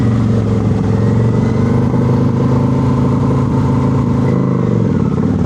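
A motorcycle engine runs at a low, steady pace during a slow-ride clutch control exercise, a loud continuous rumble close by with only slight shifts in pitch and no talking.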